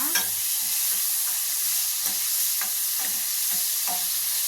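Tomato, crushed garlic and turmeric frying in a pan, with a steady sizzle under a series of stirring scrapes and clinks, close up, with no talk.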